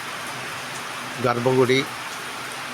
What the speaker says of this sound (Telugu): ఈసారి మనము అనుకున్న దానికంటే ఎక్కువగా వర్షం కురుస్తూ ఉంది